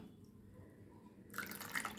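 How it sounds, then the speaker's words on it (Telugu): Sugar water is poured into molds for homemade lemon sabja ice pops; near silence gives way partway through to a bright, splashing trickle of liquid that continues to the end. "ఇప్పుడు పంచదార వాటర్ వేస్తున్నానండి"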